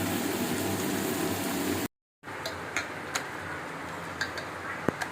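A kitchen chimney exhaust hood runs steadily while fish and potatoes are fried at home, giving a continuous broadband whoosh that cuts out briefly, then resumes with faint clicks and taps over it.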